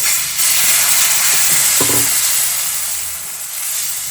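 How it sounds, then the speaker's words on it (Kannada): Tomato uttappa batter made with gram flour sizzles on a hot tawa greased with coconut oil, a steady broadband frying hiss with a few soft clinks, close and continuous with no talking. "ತವ ಕಾದಿದೆ ಈಗ ಸ್ವಲ್ಪ ತೆಂಗಿನಾರಿಂದ ಎಣ್ಣೆ ಹಚ್ತಾ ಇದ್ದೀನಿ"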